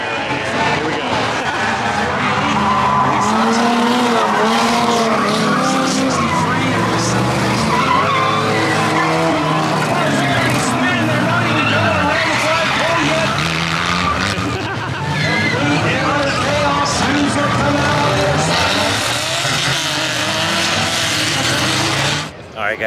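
Cars race around a tire in a flagpole race at a demolition-derby event, engines roaring and tires skidding and squealing continuously, loud and close, with a crowd and voices mixed underneath.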